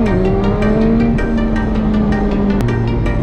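A car engine is held under throttle, giving a loud, close, continuous droning rev whose pitch shifts slightly and holds for a few seconds with no speech.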